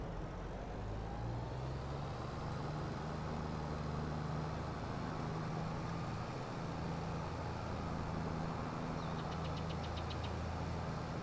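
A Deutz-Fahr tractor engine in Farming Simulator 22 works under load with a steady, close, droning low rumble and a constant throb that holds evenly for the whole stretch, with no voices.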